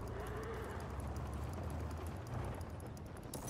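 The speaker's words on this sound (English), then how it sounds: "I can hear the neighing and the braying." Horse sounds in a video game, with clip-clop and neigh-like noise inside a dense, constant wash of game ambience.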